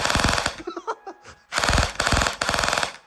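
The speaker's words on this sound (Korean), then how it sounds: "전동건이 좋긴 한데 이렇게 총알 마구 뿌려대면 이 총알 값을 어떻게 해?" A CYMA Glock 18C electric airsoft BB pistol fires loud full-auto bursts at close range: a long buzzing volley, a short pause with faint handling noise, then two more sustained rattling bursts.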